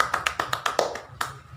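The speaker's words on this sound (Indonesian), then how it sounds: "Kita berikan tepuk tangan kepada kelompok 1" Classroom applause from a small group of students, a short patter of about a dozen quick, light claps that thin out and stop within two seconds, close by and without talk.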